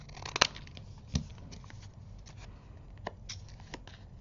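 Scissors make a few sharp, quiet snips at close range as they cut craft material for clear marble magnets. The snips come at irregular intervals, with soft handling rustles and a low hum between them.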